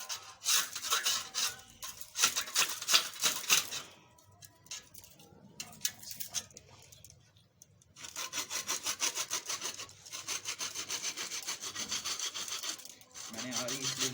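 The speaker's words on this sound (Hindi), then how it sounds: "मैंने आरी इसलिए ली है ताकि लकड़ी आराम से कट जाए।" A hand saw cuts wood for bird sticks, close rhythmic rasping strokes in two bursts separated by a quieter pause with light handling knocks, then resuming with steady back-and-forth sawing.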